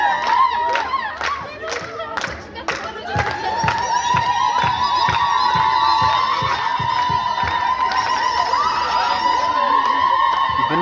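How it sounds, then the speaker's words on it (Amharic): Crowd at an Ethiopian bridal ceremony ululating in a long, sustained high trill that rises out of rhythmic clapping and cheering, with voices and shouts mixed in throughout. "ሙሽሪቷን እንግዲህ አጅቡልን እልል በሉ"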